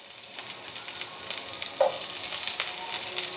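Onions, a bay leaf, two cloves and a piece of cinnamon fry in hot oil with a dense, continuous hiss, close up, with faint stirring clicks through it.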